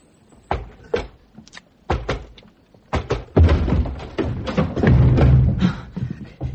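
A locked door is battered in a radio drama sound effect: heavy thuds and bangs start sparse and then build into a dense run of loud crashing impacts and splintering.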